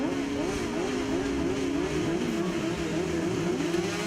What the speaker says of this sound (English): Engine notes rise